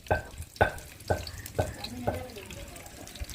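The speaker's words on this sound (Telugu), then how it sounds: "హీట్ ఎక్కింది కదా ఇంక ఉల్లిపాయలు వేసుకున్నాం" Onions hitting a hot pan for chicken curry, with five sharp, evenly spaced clattering thuds in the first two seconds as they drop in, then a soft hiss of frying that fades under faint background noise.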